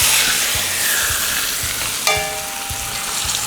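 A leg of lamb sears in a hot pan, a loud, dense, continuous sizzle with low thumps and a sharp clink partway through, with no talking.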